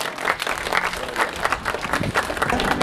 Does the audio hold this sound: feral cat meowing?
no